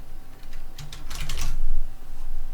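Someone types a short project name on a computer keyboard: a quick run of close, crisp keystrokes that clusters into a denser burst in the middle, with no talking.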